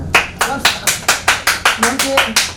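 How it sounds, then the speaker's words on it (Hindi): Rhythmic, evenly spaced claps at a women's beauty makeover academy event in a hall, about ten sharp strokes in a steady beat, close and loud, with a voice chanting along under them. "ताली हम फिर भी बजाएंगे"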